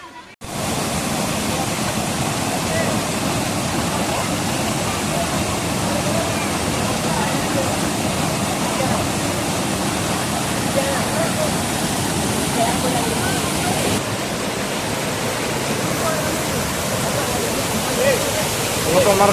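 A hidden waterfall near Athirappilly at Pillappara sends up a steady, close, unbroken roar of rushing water from start to finish.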